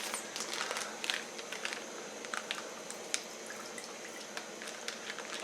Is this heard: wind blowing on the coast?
no